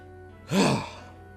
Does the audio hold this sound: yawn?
yes